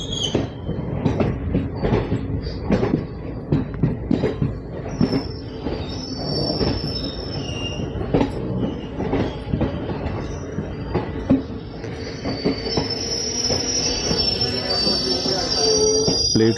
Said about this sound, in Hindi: तो अपनी ट्रेन पहुंच गई है कैसल रॉक रेलवे स्टेशन पर